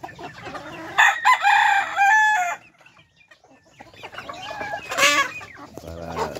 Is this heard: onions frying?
no